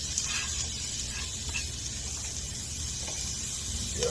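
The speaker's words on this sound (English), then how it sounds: "I've got my pan warmed up here. Just gonna go ahead and soften up my veggies." Vegetables soften in a warmed pan, giving a continuous hiss and sizzle that stays fairly loud and even throughout, with no talking.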